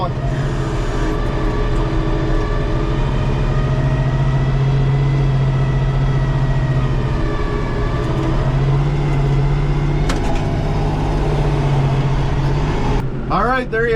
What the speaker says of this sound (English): As you can hear that engine